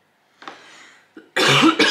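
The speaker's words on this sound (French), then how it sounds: "Et depuis cet après-midi, je tousse." A woman coughs several times up close, a softer rough cough first, then a brief hack and a louder harsh burst at the end, against otherwise quiet indoor silence.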